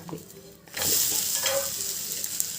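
Pizza dosa sizzles loudly on a hot pan as it is flipped, a sudden burst of frying hiss that holds steady and close after a brief quieter moment.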